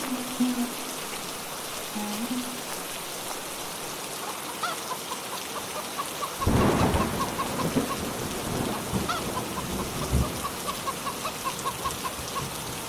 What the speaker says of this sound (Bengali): এই যা, বৃষ্টি যে শুরু হয়ে গেল